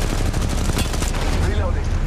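Rapid gunfire in the Apex Legends Mobile game, a dense, loud automatic burst of shots rattling continuously for about two seconds over game noise.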